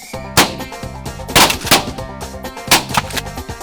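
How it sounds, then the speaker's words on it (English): Shotguns firing during a duck and goose hunt in North Dakota: several loud, sharp blasts in quick irregular succession, close by, some shots overlapping, with no talking. "We're doing a lot of shooting but not a lot of getting."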